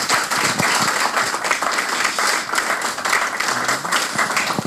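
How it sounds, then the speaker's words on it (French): A crowd applauds steadily at a French artist talk, many hands clapping in a dense, continuous wash that holds at full strength throughout. "merci, vous pouvez applaudir Julie Bessard."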